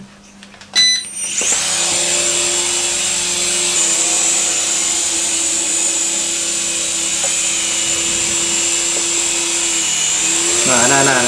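A Syma S107H RC helicopter with altitude hold gives off a constant high electric whine from its small rotors, steady and near, then shifts in pitch as it comes down to land; someone talks over it in Indonesian.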